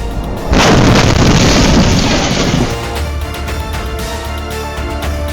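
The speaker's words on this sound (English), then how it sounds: "Wow, an earth-shattering explosion." A car crash produces a loud, booming explosion that bursts suddenly and roars for a couple of seconds before dropping to a lower lingering rumble, with no voices.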